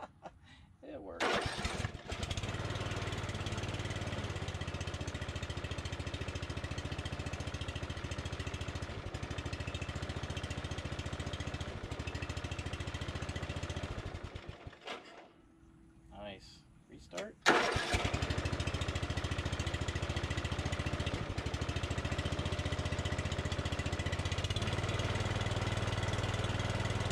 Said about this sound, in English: So let's see if she fires up.